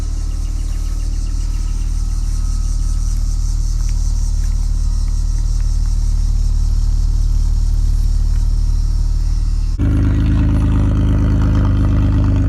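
The E36 car's engine with its muffler deleted drones at a loud, steady, deep rumble close by, then the tone jumps to a harsher, higher roar near the end.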